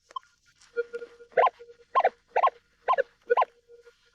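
A Minelab Manticore metal detector in all-metal mode, sounding a steady series of about six short, bright two-tone beeps in the desert, close and clear with no talking.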